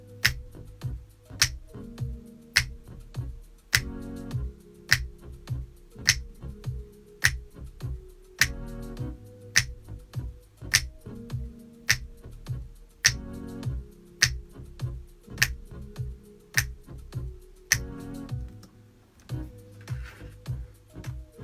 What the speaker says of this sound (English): I hope you guys appreciate these snaps when you hear them in a song.